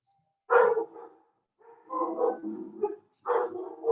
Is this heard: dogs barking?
yes